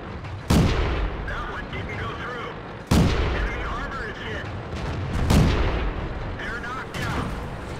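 Tank cannon fire in World of Tanks on the El Halluf map: three loud, close booming shots about two seconds apart, each with a rolling decay, over game ambience and a talking voice.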